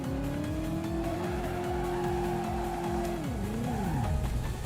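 A car in the video game Driver holds a steady revving engine, then brakes hard and spins through a 180-degree turn, the engine pitch dropping and swooping as the tires skid, close and loud with no talking.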